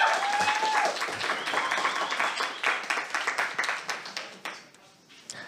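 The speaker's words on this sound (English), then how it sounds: "Maybe you get a applause from the crowd here." Conference audience applauding as a presenter takes the stage at a Matrix community talk: a dense burst of many hands clapping that gradually thins out and fades over several seconds.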